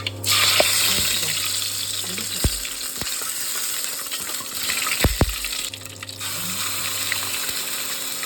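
Curry leaves and mustard seeds sizzle loudly in hot oil, a dense, close crackle and hiss for garlic chili chutney, with a few sharp pops and a low hum starting and stopping beneath it.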